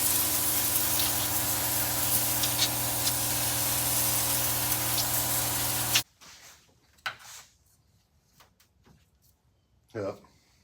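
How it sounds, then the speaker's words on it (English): Brake cleaner sprays in a steady, loud hiss onto a race car's fuel cell for about six seconds, then cuts off, followed by faint handling noises and a brief knock. "we're going to blow this off with brake cleaner now"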